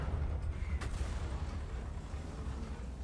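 A T28 Concept tank destroyer's cannon firing in a video game, heard as a low rumbling boom and sharp crack amid continuous battlefield rumble, with a brief high snap near the start.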